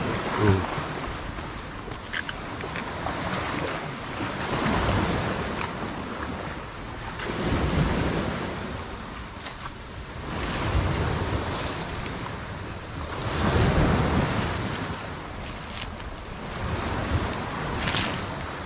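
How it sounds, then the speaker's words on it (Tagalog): Strong sea waves crash and wash against the shore in slow, recurring surges, with loud wind buffeting the microphone throughout. "Kasi lakas ng alon eh."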